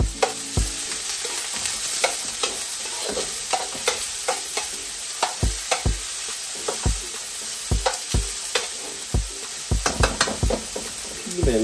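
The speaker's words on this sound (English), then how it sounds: "You're gonna get the onions in there." Onions and garlic sizzle in a pot for pigtail and ham bone soup, a steady close frying hiss broken by repeated clacks and scrapes of a spoon stirring against the pot.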